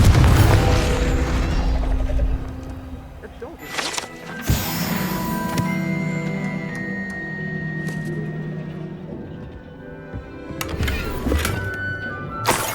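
A fiery Confringo blast spell in the game Hogwarts Legacy, with several sharp booms and crashes spaced across the clip over lingering tonal magic shimmer and background game sound.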